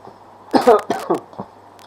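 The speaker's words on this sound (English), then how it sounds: "got a bit of a cough going on" A single person's cough, a few short harsh bursts in quick succession, close to the microphone and loud against a quiet room, with no talking.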